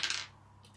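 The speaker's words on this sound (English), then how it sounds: "So I roll my dice." Dice tumble briefly across a table during a Wild West Exodus tabletop game, a quick bright clattering rattle that fades within a fraction of a second into near silence.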